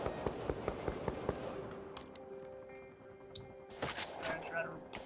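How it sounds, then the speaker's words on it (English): Gunfire in the online game Vampire: The Masquerade - Bloodhunt: a rapid series of sharp, evenly spaced shots, then a louder cluster of bangs a few seconds later, set against background game sound. "I see gunfire down there, so tread ridiculously carefully."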